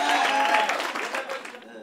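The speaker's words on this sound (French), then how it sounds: "on peut l'applaudir" Applause from a small studio audience on a French reality TV set, a dense steady patter that fades slightly toward the end, with a voice mixed in.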